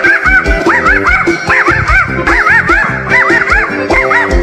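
A voice imitates a dog barking, loud repeated yelping bursts with sliding pitch, over a thumping rhythmic beat.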